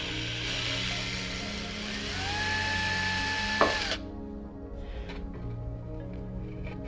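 Hand tools working on the impeller housing cover of a flood-damaged pump in a greenhouse. A steady mechanical hum and ratcheting run under a rising whine, which stops abruptly and is followed by quieter clicks and knocks.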